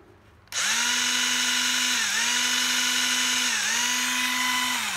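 A 24V cordless drill set to non-hammer mode starts after a short quiet moment and runs loud and steady with a high whine, its pitch dipping briefly twice as load changes.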